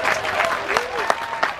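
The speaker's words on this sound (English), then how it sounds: "we start clapping louder" A gathered crowd claps in scattered, uneven bursts at a fair event, sharp hand claps rising over a voice speaking at the same time.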